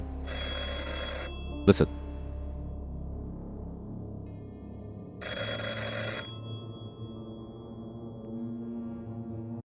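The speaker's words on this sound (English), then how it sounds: "Why is the phone still ringing?" A telephone rings in a horror video game, two bursts of shrill electronic ringing separated by a pause, with a sharp knock-like hit between them and a low hum underneath; a voice speaks briefly.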